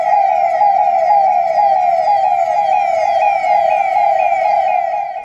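A police car siren wails loud and close in a continuous, steady rising-and-falling tone that runs without a break from start to end, with no talking.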